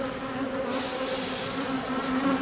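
Honey bees swarm over a frame pulled from a hive, a dense, continuous buzz of many insects close by, steady throughout with no voices.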